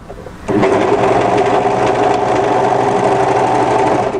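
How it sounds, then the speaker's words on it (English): An overlocker runs continuously and loudly at close range while sewing off the knot hem of a tee dress, a steady buzzing whir that starts after a brief quieter moment. "So just go as close as you can and then overlock off."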